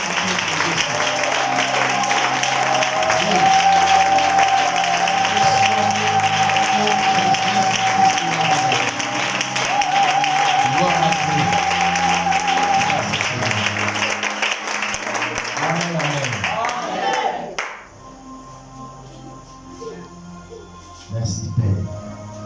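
Seminar audience claps and cheers loudly in acclaim of Jesus Christ, a dense sustained wave of applause with voices over it that cuts off sharply near the end, leaving quieter room sound and scattered taps.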